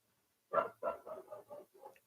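A dog barks at a passer-by in a short burst of about six rapid barks close to the microphone, moderately loud and fading slightly, with no talk over it.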